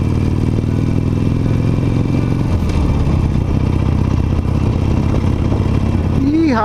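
A sixteen-year-old Harley-Davidson Nightster engine rumbling steadily while riding, loud and close with a deep continuous drone and wind noise, the pitch shifting slightly as the bike cruises.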